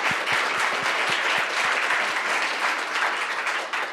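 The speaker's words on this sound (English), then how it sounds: "Can we give them a big round of applause?" Conference audience applauding panel speakers at a patient navigation annual meeting, a dense steady wash of clapping from a sizeable room with a few distinct near claps, continuous for the whole stretch.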